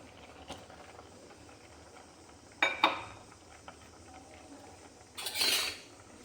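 A spoon stirs a Kerala-style prawn and mango curry in a pot, giving a few quiet scattered metallic clinks and scrapes against the pot, with two louder bursts of scraping amid near silence.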